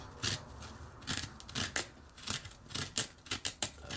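A tool scrapes out the inside of a pumpkin in short, rasping strokes, a series of close, distinct scrapes in an irregular rhythm with quiet pauses between them.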